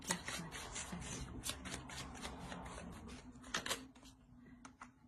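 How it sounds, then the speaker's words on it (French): Tarot cards are shuffled, drawn and laid out on a surface, giving close, quiet papery slides and crisp flicks in irregular bursts, with no talking. "Je vais rajouter une carte."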